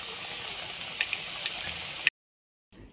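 Chicken pieces frying in hot oil that was just used for french fries, a steady sizzling hiss with a few crackling pops before it cuts off abruptly, then resumes faintly.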